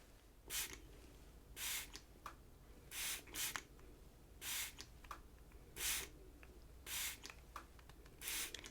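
A spray bottle spritzes water over hair in short bursts, about eight hissing puffs at a steady pace, close and fairly soft, with quiet pauses between them.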